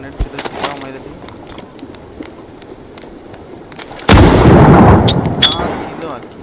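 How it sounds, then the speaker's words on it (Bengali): A grenade in the video game PUBG explodes with a sudden, loud, close blast that roars for about two seconds and then fades, following quieter scattered in-game sounds with sharp pops and clicks. "তো হঠাৎ করে আবার একটা গ্রেনেড ছিল, সেটাও মেরে দিই।"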